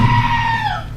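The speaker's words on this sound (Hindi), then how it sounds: "मैं इस चिल्लाने वाली बकरी को सुन रहा हूँ ना" A goat in a video game lets out one long, loud, strained scream that wavers and slides downward over about a second, with no talk over it.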